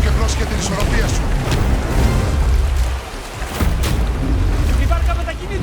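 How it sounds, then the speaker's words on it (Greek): A boat moves across water in the God of War video game, with a steady rushing wash of water and wind noise throughout. A brief dip in the middle is followed by more splashing surges. "Η βάρκα μετακινείται."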